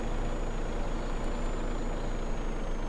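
A truck idles and rumbles steadily while being parked behind a dealership in the Farming Simulator 15 video game, a continuous heavy engine drone with a faint high tone and no talking.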